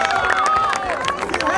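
A crowd at a rap battle applauds and cheers loudly and continuously, with voices calling out over the clapping and a voice singing or shouting above it.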